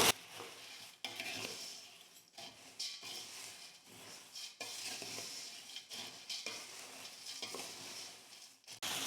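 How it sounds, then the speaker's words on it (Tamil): Homemade Diwali mixture snack, just salted, is stirred and tossed in a metal pan, a steady dry rustling and scraping with light clinks of spoon against pot, continuous and close with brief pauses. "இப்போ எல்லாத்தையும் சேர்த்து நல்லா கலந்து கொடுத்துக்கலாம்."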